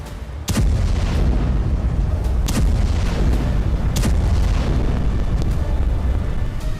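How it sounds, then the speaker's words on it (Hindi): Repeated explosions during a bombing of the Natanz nuclear site in Iran: several loud, sharp booms spaced about one to two seconds apart over a continuous heavy rumbling roar. "एक के बाद एक कई धमाकों से सेंटर आग की लपटों और काले धुएं के गुबार से घिर गया।"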